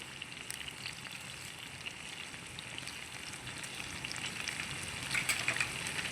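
Green chillies and curry leaves with a little salt fry in a pan, giving a steady, close, dense sizzle and crackle that swells slightly toward the end, with no voices.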